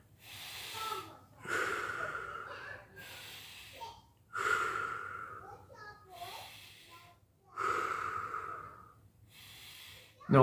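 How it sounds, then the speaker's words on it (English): Rhythmic Qi Gong breathing that combines belly and back breaths during an iron body meditation session: slow, close, audible inhales and exhales in repeated cycles, with breathy snort-like bursts separated by short pauses. "Now combine the belly and the back breathing."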